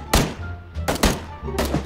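Gunshots in PUBG ring out as three sharp, punchy cracks at uneven intervals, moderately loud against a quiet background.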